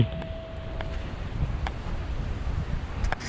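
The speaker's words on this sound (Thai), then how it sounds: "ได้ครับในวันที่ลมแรง" Strong wind at sea during an Andaman Sea bottom-fishing trip, a steady rushing buffet across the microphone with a few faint knocks from the boat.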